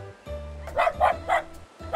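A dog barks four times in an evenly spaced, moderately loud sequence, with a steady low tone sounding beneath it.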